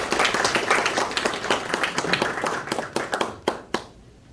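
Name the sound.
audience applause at a ceremony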